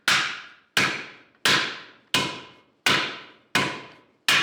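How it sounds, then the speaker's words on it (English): Metal piece shaped with a hammer over a wooden stump: seven sharp, ringing blows at a steady, unhurried rhythm, each decaying quickly, loud and close with no talking. "we're going to get to shaping this piece to fit this corner with this stump and this hammer"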